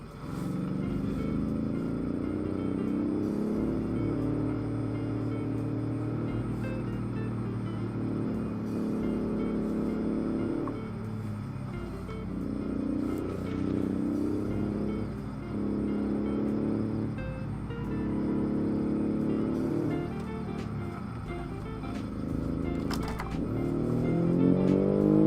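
A twin-turbo Subaru engine of about 300 horsepower in BeamNG, from an Automation conversion, revs and pulls steadily with a loud, continuous drone that rises and falls for the whole stretch, with no talking over it.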